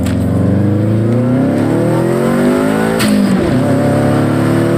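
A car fitted with a Rev9 downpipe and catalytic converter revs hard and continuously, its loud exhaust note climbing and falling in smooth sweeps, close and unbroken, with a brief sharp change midway.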